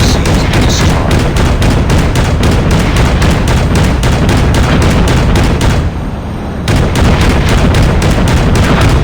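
Explosions and rapid gunfire from the Call of Duty video game as a friendly Shock RC drone is destroyed, a dense, loud continuous barrage of booms and shots with a brief dip in the middle.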